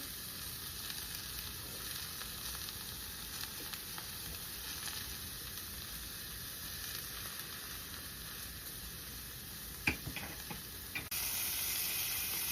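Hamburger patties fry in a pan in their own grease, giving a steady, dense sizzle and hiss that fills the whole stretch, close and even, with a couple of brief clatters near the end and no talking.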